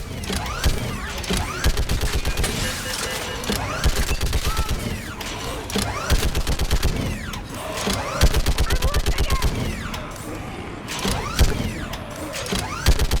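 Rapid bursts of automatic gunfire from the video game Mass Effect 3 during a battle, dense and continuous with repeated volleys and mechanical clatter, alongside voices of game characters.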